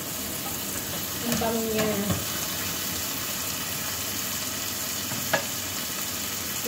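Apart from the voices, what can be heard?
prawns and vegetables frying in a pan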